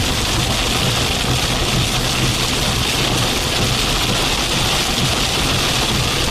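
Loud, dense rain pounds steadily on a storm-chasing vehicle during a Texas/Louisiana storm, a continuous roar with a low engine hum beneath it and no voices.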